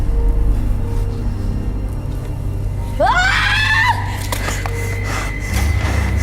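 A possessed participant at a spirit-medium session lets out a loud, wavering scream of about a second that rises and then falls, over a steady low room rumble, with a few sharp knocks just after it.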